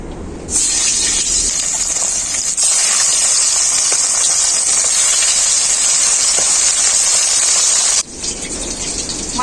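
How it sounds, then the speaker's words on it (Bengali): Bata fish frying in hot mustard oil in a wok, a loud, steady hissing sizzle that starts abruptly and holds unbroken for several seconds before cutting off briefly near the end. "সর্ষের তেলটাও খুব ভালো করে কড়াইতে গরম হয়ে গেছে এখন আমি মাছগুলো ভেজে নেবো"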